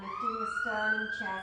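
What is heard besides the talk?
emergency vehicle siren passing outside, on hospital route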